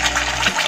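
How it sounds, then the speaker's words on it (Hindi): Ground spice paste dropped into hot oil in a pan for a chicken gravy, a steady loud sizzle and hiss lasting the whole moment, close and alone with no talk. "ये तेल गर्म हो चुका है, ये जो मैंने मसाले पीसे थे इसे मैं इसमें डाल रही हूँ।"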